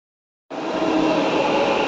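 A Kengeri metro train runs, heard from a seated passenger on board: a steady, loud broadband rush of rolling and air noise that starts abruptly and holds evenly.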